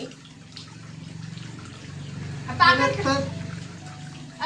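A bed sheet washed by hand with water, soft sloshing and splashing that swells into a louder wet burst midway, with a person talking over it.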